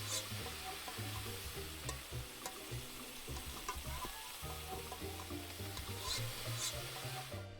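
Stir frying in the video game Immortal Life gives a soft, steady sizzle with faint clinks and tapping from the cookware, quiet and continuous, with no voices.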